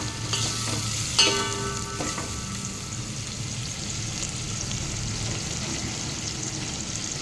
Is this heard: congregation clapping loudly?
no